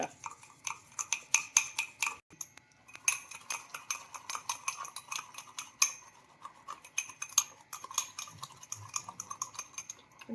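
A spoon or whisk clinks quickly and rhythmically against a bowl while a creamy mixture is beaten. The close, crisp taps come in bursts with brief pauses, and the clip has no speech.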